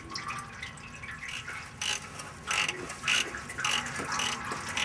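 A ratchet removes bolts from an automatic transmission pan during a fluid change, giving repeated bursts of close, crisp clicking in uneven runs while fluid drips quietly in the background.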